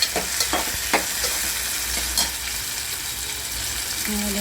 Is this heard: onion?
yes